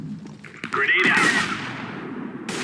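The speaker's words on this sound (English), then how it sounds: "That's from an AK-47, man." An AK-47 fires in a video game in a short, sharp burst with a ringing tail, close and loud. A voice is heard around it.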